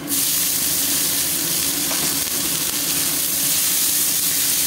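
Red amaranth greens dropped into a hot pan with fried poppy seeds, a sudden burst into a loud, dense, steady hiss and sizzle that fills the whole clip.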